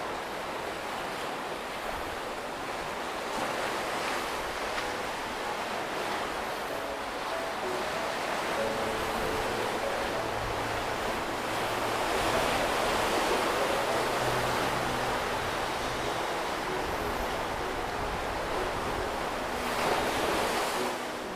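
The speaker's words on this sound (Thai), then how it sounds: "ชมความงามของทะเลกันครับ" Sea waves wash steadily beside a fishing boat harbour at Hua Hin, a broad continuous surf roar with some wind buffeting the microphone, swelling slightly midway, no voices.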